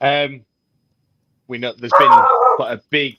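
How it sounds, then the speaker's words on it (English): A dog barks a few times in bursts, close and loud, mixed in with someone talking. "Someone's dog's gone mental. Hello. That's mine."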